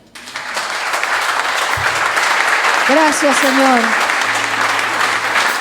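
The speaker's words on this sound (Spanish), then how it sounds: "¿Le da un aplauso al Señor?" A church congregation applauds, a steady crowd of clapping under a voice that speaks briefly in the middle.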